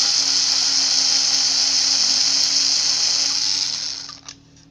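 A power drill whirs continuously at high speed, close and loud, run to release its drill bit, then winds down and stops near the end with a brief rattle.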